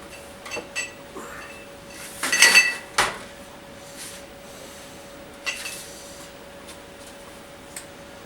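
Ceramic ramekins clink and knock against each other as they are picked up in a kitchen, a few short scattered clatters with one brief cluster, close and fairly quiet against a faint steady hum.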